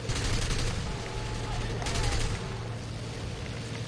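Aircraft guns fire in rapid bursts during a War Thunder air battle over Malta, with Bf 109 and Beaufighter fighters involved, sounding as a fairly quiet, dense rattle over a low engine drone.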